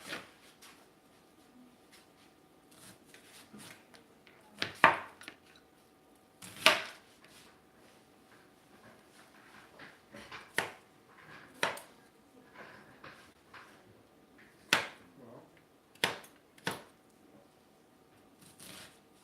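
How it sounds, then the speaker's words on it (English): A kitchen knife chops an onion into rough dice on a board, giving scattered sharp taps and thuds at an irregular pace, some louder than others, against a quiet background. "chop this onion up"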